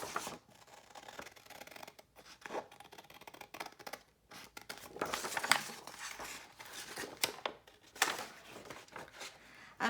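Scissors snipping paper while cutting out a piece for Halloween pocket pages, soft close irregular cuts and paper rustle scattered through the quiet clip, louder clusters near the middle and end.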